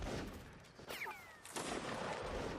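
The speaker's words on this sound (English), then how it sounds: "Coming under cannon fire." Booming cannon shots from the Napoleonic-era siege game Mount & Blade: Napoleonic Wars: two loud blasts about half a second apart over a steady din of battle noise.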